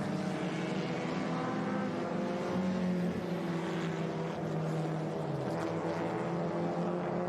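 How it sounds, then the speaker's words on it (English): A 1956 Alfa Romeo Spider racing at Laguna Seca, a loud continuous engine drone with shifting pitch as it passes, steady and sustained. "1956 Alfa Romeo Spider. Originally it raced on the East Coast."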